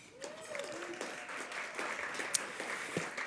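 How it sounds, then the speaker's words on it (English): Scattered audience applause at a luncheon plenary of an energy summit, fairly faint and diffuse, with a few sharper claps and some background voices mixed in. "all of you deserve recognition and a round of applause"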